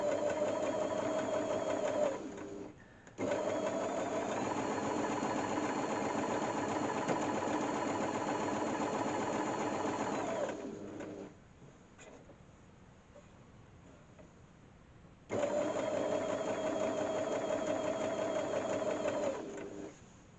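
A sewing machine fitted with a quarter-inch foot runs steadily in two long stitching bursts separated by a quiet pause, its motor hum loud and close with a brief break early on.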